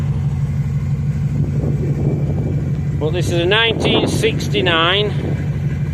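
A 1969 Lincoln Continental Mark III engine idles with a steady low rumble close by, while someone talks over it partway through.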